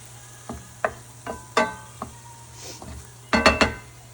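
Ingredients for chicken enchiladas sautéing in a pan, with a series of distinct spoon scrapes and clinks against the pan over a low steady sizzle, close and without talk.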